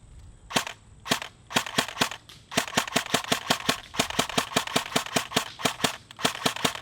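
An ASG CZ Bren 805 airsoft rifle, powered by a large stick LiPo battery, fires sharp close snapping bursts with short pauses between them, then rapid strings of shots near the end.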